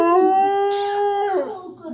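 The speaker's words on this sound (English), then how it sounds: "Be hearing all them puppies howling" A dog howls in a long, steady wavering note that bends downward near the end, close and loud, with no talking.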